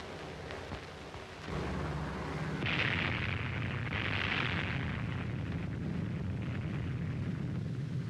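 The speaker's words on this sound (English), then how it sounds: "The fourth atomic bomb has been successfully detonated." An atomic bomb detonates in the 1946 Operation Crossroads test, heard as a sustained, rolling roar and rumble that swells and stays dense and loud throughout, with no voices.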